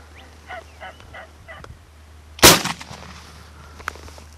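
A single loud gunshot cracks out during a turkey hunt, following several distant gobbles from a turkey, with a brief fading echo afterward.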